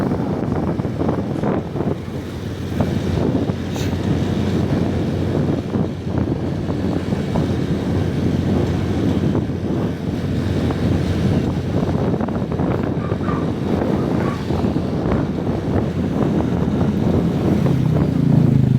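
Strong wind roars steadily into the microphone during a road ride on the Transcentral Highway near Cebu, a loud continuous buffeting rush that fills the whole stretch without any voices.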